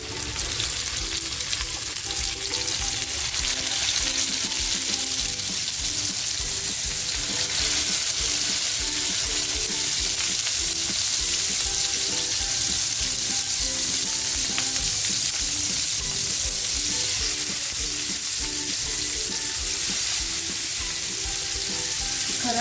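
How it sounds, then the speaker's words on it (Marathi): Pieces of surmai (kingfish), including the head, fry in a pan with a loud, unbroken close-up sizzle that holds steady for over twenty seconds. "हे सुरमईचं डोकं आहे ते सुद्धा घेते मी फ्राय करण्यासाठी"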